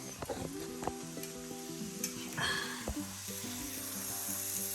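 Bacon and cauliflower rice browning in a pan give a faint, steady sizzle with a few stirring scrapes early on, heard quietly beneath a low tonal background hum.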